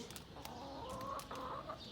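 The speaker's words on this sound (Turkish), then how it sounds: "Evet, kaçan tavuğumuz da bu." A chicken clucks in short, repeated bursts, fairly faint and close, with no talking.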